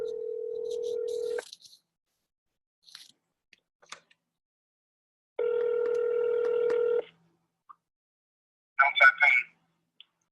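Telephone call being placed to a contractor: a steady dial tone, a brief burst of touch-tone dialing, then a long ringback tone, followed by a short voice at the end.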